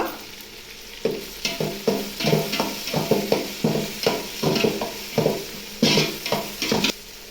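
Turmeric and garam masala frying in a pan for mushroom biryani, stirred vigorously in repeated scraping strokes that give a rhythmic, close sizzle with the spoon rasping against the pan bottom.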